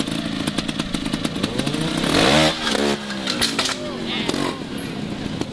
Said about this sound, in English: we're just watching Alan Miller once again on his Suzuki coming through.